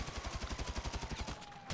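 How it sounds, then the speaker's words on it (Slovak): Rapid automatic gunfire from a video game, a steady stream of evenly spaced shots at a quick rhythm, faint and without any talk, ending in a brief sharp click. "To čo sa tu tak strieľa"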